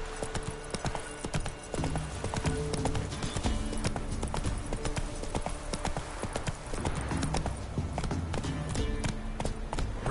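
Roach, a horse in The Witcher 3, gallops in a steady, rapid clip-clop of hooves, loud and close, running continuously with no talk over it.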